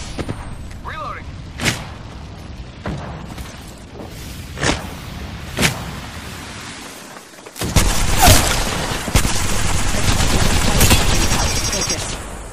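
Gunfire in the Apex Legends video game: a few separate sharp shots spaced out early, then a loud sustained burst of rapid fire and explosions filling the second half.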